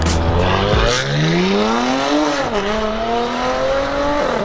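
A loud European car engine fitted with an aftermarket downpipe revs up and down with a throaty exhaust note, the pitch climbing and falling across several sustained pulls, no talking.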